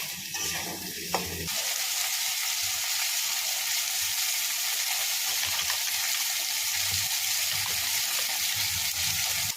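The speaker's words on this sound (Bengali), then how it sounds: "পেঁয়াজটা ভাজা হয়ে গেছে, আমি আলু আর কড়াইশুঁটিটা দিয়ে দিলাম।" Onion, potatoes and green peas fry in hot oil in a pan, giving a steady, close, loud sizzle that lasts the whole stretch without talk.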